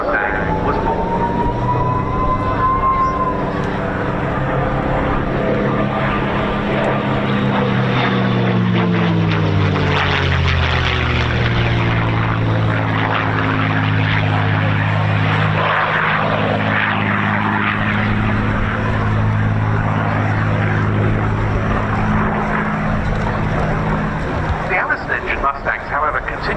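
A Merlin-engined P-51 Mustang flies past at an air show, its propeller engine drone rising and falling in pitch as it sweeps by, loud and sustained over crowd ambience, with a voice talking over it.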